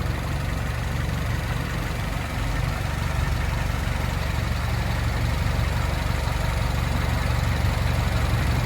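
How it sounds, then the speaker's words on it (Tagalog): A car engine idles on its existing oil with a constant, loud, low-pitched drone, close and unchanging, with no other sounds over it. "Narinig nyo yung makina."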